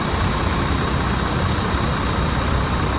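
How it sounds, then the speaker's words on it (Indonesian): A bus with a Piala Emas body, plate BL 7452, idles steadily while warming up on a muddy lot after a night of heavy rain, a continuous close engine rumble with no talk. "Nah, jadi posisi bus dipanasin dulu,"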